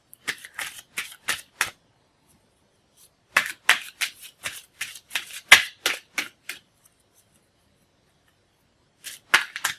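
Tarot cards are shuffled in close, crisp riffling bursts, several quick flurries separated by short pauses, with a final burst after a longer silence and no voice.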